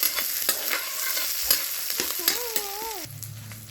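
Chicken meat goes into onions that have been frying until red, with a loud close sizzle and spoon scrapes against the pan. A short whistling tone sounds near the end.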